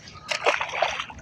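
A small pike splashes back into creek water after release, a brief burst of splashing and sloshing close by, then trickling water.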